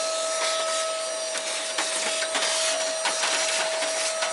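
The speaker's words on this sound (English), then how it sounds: "I need to vacuum clean those" A vacuum cleaner sucks dust from inside a desktop PC, a steady high whine with a sharp tonal hum, punctuated by scattered clicks and scrapes as the nozzle bumps parts inside the case.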